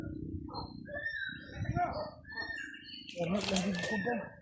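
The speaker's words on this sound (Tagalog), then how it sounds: "Nandiyan na naman yung ibon rin." Birds call and chirp in short bursts, with a cooing note among them, while people talk nearby over the calls.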